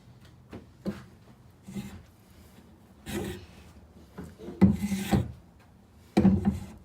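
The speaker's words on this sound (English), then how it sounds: "First we're using a number 1 sandpaper. This is a coarse one, so we can remove any imperfections" Coarse number 1 sandpaper rasping against a wooden pinewood derby car block, heard as irregular scraping strokes close by, with several louder bursts toward the end and no talking.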